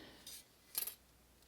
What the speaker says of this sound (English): Now you can mark it, or you can just pick up your scissors